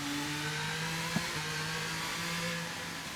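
An F1 race car engine in the F1 23 video game at the Spain circuit, a steady high-revving drone with a brief shift blip partway through, heard alone at moderate level.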